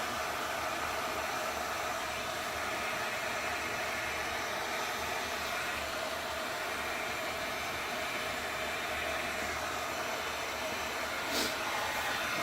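A heat tool blows continuously over poured resin on tiles, a steady close-up rushing hiss of hot air with little change in level across the whole stretch.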